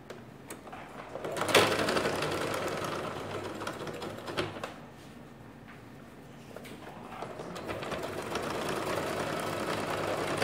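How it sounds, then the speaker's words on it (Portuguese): A sewing machine stitches the hem of children's cargo shorts, a soft continuous mechanical whir under faint room noise, with a sharp knock early on and a slight dip in the middle. "Aí você costura ele aqui na barrinha"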